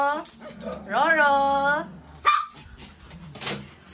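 Small pet dogs fighting with each other give a whining, yelping bark and a sharp yip at close range, with a person's voice scolding over them.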